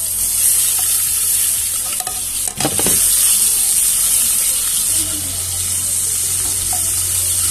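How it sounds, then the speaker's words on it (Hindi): Fish sizzles and fries in hot mustard oil in a home kitchen, a constant loud hiss close by, with a brief clatter of stirring partway through. "ये जब तक फ्राई हो जाए"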